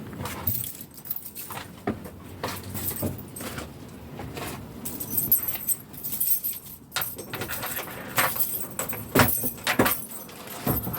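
Car keys jangle and clink repeatedly near the boot of an original Mini, in irregular bursts with a few louder metallic knocks and handling noises, no speech.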